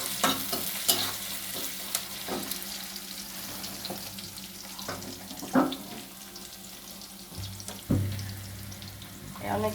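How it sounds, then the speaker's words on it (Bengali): Onion frying in a pan for pasta, with a soft sizzle running throughout and occasional stirring scrapes and clinks, moderately close, with no talking. "এখন আমি পেঁয়াজটা প্রথমে ভেজে নিচ্ছি"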